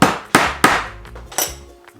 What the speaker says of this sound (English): So now we'll take our hammer